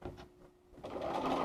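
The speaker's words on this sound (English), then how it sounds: "So I'm just going to sew along here" A Bernina 930 sewing machine stitching a seam, a faint start at the beginning, a short lull, then the motor and needle running steadily for the last half second, close but quiet.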